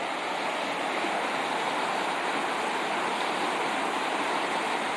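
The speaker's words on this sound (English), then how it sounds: "This is a beautiful walk along this river." A river rushes steadily beside the Hood River pipeline trail in Oregon, a loud, continuous broadband roar of flowing water close by with no breaks and no voices.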